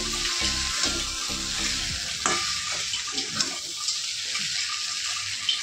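Aloo dum potatoes cooking in a pan, with a steady close sizzle and a few soft stirring scrapes and knocks, plus a trickle of running water in the background.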